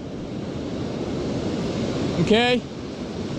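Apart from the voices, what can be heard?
ocean surf waves on the Oregon coast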